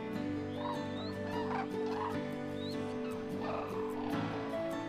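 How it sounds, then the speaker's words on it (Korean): Cranes calling in a wintering wetland, several bugling, trumpeting calls repeating at intervals, moderately distant over a steady background hum. "때묻지 않은 자연 속에서 한가롭게 시간을 보내는 두루미들."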